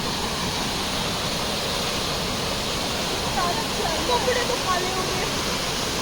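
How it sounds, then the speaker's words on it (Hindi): Jogini Falls in Lahaul roars as a steady, loud wash of falling water, its flow reduced in winter, a constant full rush with no pauses. "This is Jogni false for you."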